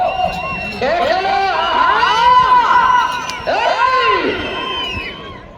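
Crowd at a bull race during a temple festival, seniors category, shouting and whooping loudly and continuously, rising and falling in waves close by, with excited overlapping cries throughout.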